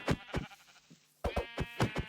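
A Minecraft sheep bleats in short wavering calls, two quick bursts, a pause, then several more in a row, close and clear.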